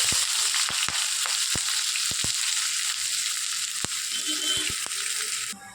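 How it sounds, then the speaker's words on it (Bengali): Chopped onions go into hot oil already holding cinnamon, cloves, cardamom and mace for chicken korma, a dense continuous sizzle broken by sharp clicks of a spoon against the pan. "এবার আমি দেবো পেঁয়াজ কুচি।"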